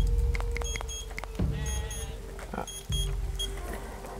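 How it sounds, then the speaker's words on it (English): A game timer alarm going off in Dawn of Man, a run of short repeated electronic beeps over a steady low hum, with brief bumps of background noise. "Oh, there goes my timer."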